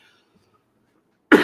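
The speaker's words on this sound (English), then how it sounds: "I got a bit of a cough and cold sinus thing going on" A single sharp, loud cough bursts out near the end after a stretch of near silence, from a person with a cold and sinus congestion.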